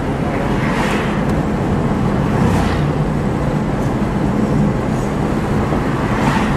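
A 1963 Ford Falcon Futura convertible cruises steadily, its engine and road rumble forming a loud, continuous wash of noise from inside the car with no pauses.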